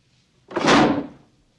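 A drawer slammed shut in a police interrogation room, giving one loud, close wooden thud with a brief rattling decay, alone with no talk around it.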